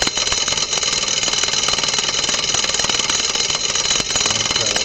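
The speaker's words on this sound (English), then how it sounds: "And now I'll turn the generator on." A generator switched on and running, a loud, dense, steady mechanical drone with a rapid chattering texture that holds constant throughout with barely any variation.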